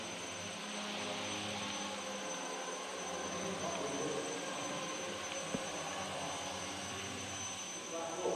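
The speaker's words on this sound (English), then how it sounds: "there are helicopters, planes and everything going on here" Aircraft and helicopters drone overhead in a steady, broad engine roar that holds for about eight seconds, a distant airborne hum filling the scene with a brief sharp tick partway through.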